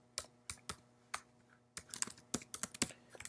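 Computer keyboard keys typed to enter a localhost address into Firefox while setting up Hadoop on CentOS; crisp, close keystrokes come in a short burst, pause, then return in a quicker, denser run with no talking.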